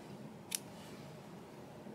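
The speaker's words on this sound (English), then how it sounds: "So just take your scissors and snip." A single quick snip of scissors cutting yarn from a crochet kit, one brief crisp click in an otherwise quiet room with a faint background hiss.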